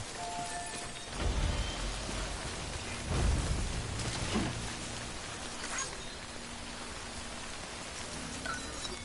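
Timefall rain in Death Stranding pours steadily as a dense, hissing wash, with a few low rumbling swells that sound like distant thunder rolling beneath the constant downpour.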